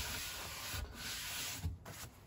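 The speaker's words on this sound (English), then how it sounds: "The more sheen and the more smooth you want, you gotta sand up to a higher grit." Sanding a wooden bench with 150 grit sandpaper at an off-grid cabin, a steady close rasping rub with a couple of brief heavier strokes, no talk.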